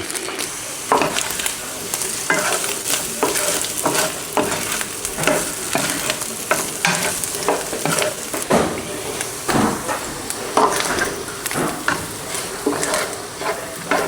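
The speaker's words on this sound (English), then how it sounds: "Once you get the chorizo in there, just cook it down to your liking." Chorizo frying in a pan for breakfast tacos, with a continuous crackling sizzle broken by frequent scraping stirs of a utensil against the pan, close and steady throughout.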